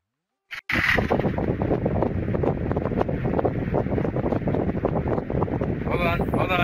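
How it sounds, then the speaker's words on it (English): An electric fan blows close to the microphone, a steady loud rushing wind with heavy buffeting that starts abruptly after a brief bump and runs continuously to the end. "You want to hear the sound of my fan?"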